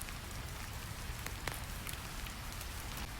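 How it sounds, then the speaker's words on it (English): Steady rain patters on a surface in a dense, even hiss, with scattered louder drops standing out now and then and no voices. "The rain sings its quiet lullaby."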